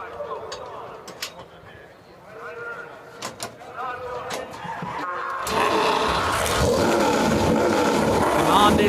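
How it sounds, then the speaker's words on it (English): EuroNASCAR Pro stock cars in the Whelen Euro Series final regular-season race at the NASCAR GP Czech Republic 2024 fire up together, a sudden loud, sustained engine roar that follows a stretch of commentary and continues under the talk. "the engines fire up"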